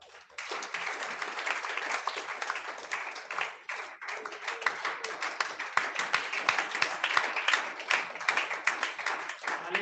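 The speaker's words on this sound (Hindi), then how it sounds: "जोरदार ताली बजाओ।" Loud, sustained applause from a congregation at a Friday prayer meeting, dense overlapping claps running steadily for about ten seconds with no voices on top.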